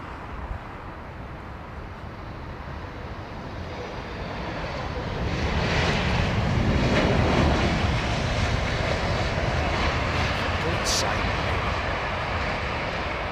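A jet aircraft engine at London Heathrow Airport rumbles as a broad roar that swells toward the middle and then holds steady, with people talking over it.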